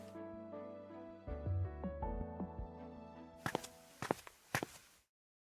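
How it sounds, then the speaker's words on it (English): Footsteps echo through the empty halls of a large, quiet mansion in the video game Snowbreak, a few soft, spaced thuds over a sustained musical drone that fades to silence. "Her footsteps were the only sound echoing through the empty halls."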